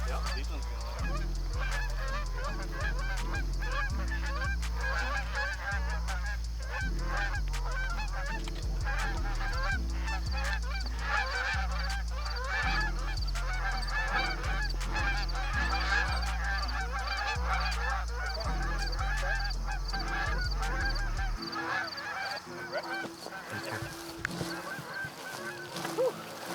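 Flock of geese honking loudly and continuously during a Michigan waterfowl hunt, overlapping calls from many birds close by, with a low rhythmic drone beneath until it drops away near the end.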